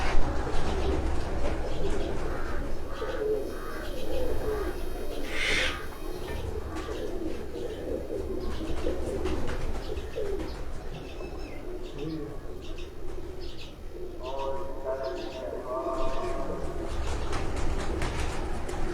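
Pigeons coo on a rooftop in Jalalpur Bhattian, their soft repeated calls spread through a steady outdoor background with a few higher chirps, while people talk nearby at times.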